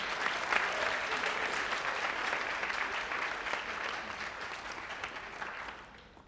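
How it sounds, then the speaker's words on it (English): Steady applause from a sizable crowd, many hands clapping together at full strength, then tapering off near the end. "if we could all give a round of applause to Edwin and Irving doing the social media"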